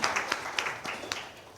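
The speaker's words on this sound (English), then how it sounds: "can you join me to applaud her for a good presentation?" Applause from a conference audience after a presentation, a brief steady patter of many hands clapping at moderate distance, fairly quiet.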